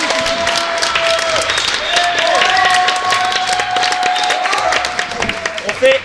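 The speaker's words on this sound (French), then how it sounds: "On peut applaudir nos 4 candidats." Audience applauding four contestants on stage at a live podcast duel event in Rennes, loud continuous clapping with some cheering and tonal sound running throughout.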